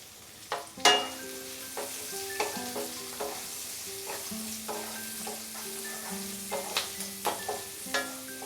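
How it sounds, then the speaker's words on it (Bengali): Chopped onion fries over medium heat in a pan for crispy chili potato, with a soft sizzle under repeated metallic clinks and scrapes of a stirring spatula, close and uneven in rhythm, no talking. "পেঁয়াজটা দেওয়ার পরে আমি 1 মিনিট এটাকে ফ্রাই করে নেব মিডিয়াম আঁচে।"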